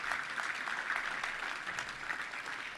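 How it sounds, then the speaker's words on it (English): Audience applause at a Little Rock Touchdown Club luncheon, steady dense clapping from many hands, fairly faint and continuous for a few seconds with no talk over it. "Let's give them both a round of applause for Ryan and Alicia."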